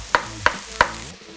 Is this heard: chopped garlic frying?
yes